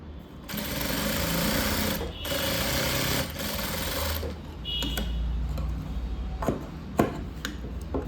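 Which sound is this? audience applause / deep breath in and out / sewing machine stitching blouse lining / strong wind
sewing machine stitching blouse lining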